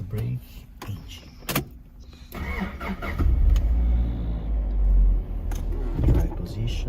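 A car engine starts during a driving lesson on a Japanese driving course: clicks and a door thump, then a rising crank and a steady near idle hum, with an instructor talking over it.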